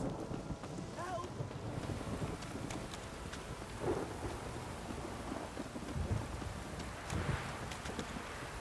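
Steady rain pouring in the Witcher 3 game, a dense wash of patter with faint low rumbles and a few soft voice sounds.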